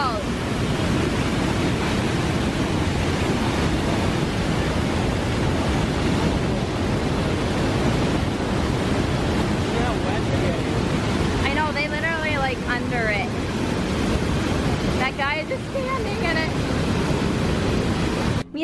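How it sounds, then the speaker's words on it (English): Steady broadband roar of the Niagara Falls waterfall heard from directly above, a constant loud rushing wash with some wind buffeting the microphone and brief voices faintly in the background. "We're right above a falls."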